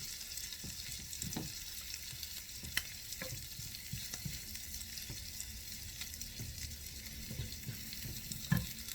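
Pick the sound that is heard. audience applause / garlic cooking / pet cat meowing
garlic cooking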